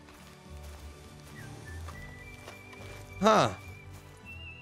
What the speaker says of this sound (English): I guess this is our new horse.